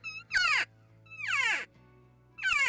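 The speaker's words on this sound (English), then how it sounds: "is the sound of a cow elk" Three high, squealing cow elk calls that slide sharply downward in pitch, each about a quarter to half second long, separated by pauses, fairly loud and close, during an elk hunt in Kentucky.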